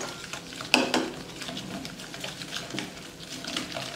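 Kebab meat is mixed with a vinegar marinade in a bowl, making soft wet squelching and stirring sounds near at hand, with a sharper clink of utensil on the bowl early on.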